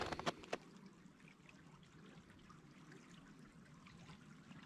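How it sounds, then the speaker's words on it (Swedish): A winter stream trickles against an ice edge in a far-north setting at minus fifteen, a soft, continuous gurgling heard at a distance, preceded by a few sharp knocks at the start. "Man hör vattnet när det stöter mot iskanten."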